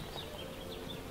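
Honeybees buzzing around a hive as a beekeeper works the frames: a close, continuous drone with small wavering rises in pitch as individual bees fly past.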